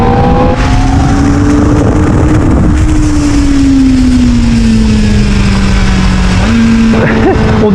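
A Kawasaki ZX-4RR motorcycle engine holds high revs, a loud, close, buzzing whine that sags slowly in pitch, then climbs again near the end.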